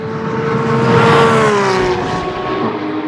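Hot rod cars roll racing, a loud, close engine roaring steadily with a rising and falling pitch for a few seconds, with no voices over it.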